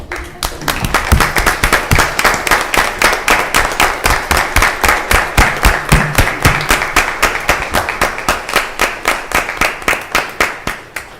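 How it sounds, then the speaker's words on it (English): Steady, rhythmic clapping from an audience at a county commission work session, honoring standing EMS staff; sharp, regular claps fill the room at a strong, even level for about eleven seconds with faint voices underneath. "please stand, and we want to clap for you this morning"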